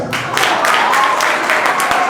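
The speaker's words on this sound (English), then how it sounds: "Give them a round of applause." A debate competition audience applauds the second runner-up house team, a dense, sustained roar of clapping with occasional louder bursts, while a voice speaks over it.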